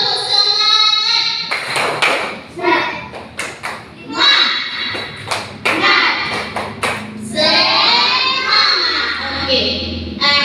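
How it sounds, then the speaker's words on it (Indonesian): Children in a classroom do a rhythmic tepuk semangat spirit clap, a quick series of sharp claps and thumps mixed with chanting young voices, loud and close. "Ibu mau bikin tepuk semangat dulu."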